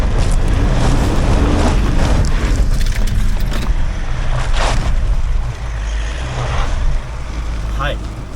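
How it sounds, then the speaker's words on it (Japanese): Mazda CX-60 at full throttle launching up a steep off-road hill climb with hill launch assist, traction control intervening: steady loud engine and tyre roar with heavy wind buffeting on the microphone throughout. "張り付いた状態から全開を踏んでみたいと思います。つまりアクセルベタ踏みです。"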